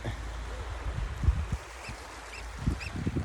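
Distant nesting birds honk and call intermittently beside an Icelandic fjord, over a low outdoor rumble, with a few goose-like cries standing out near the end.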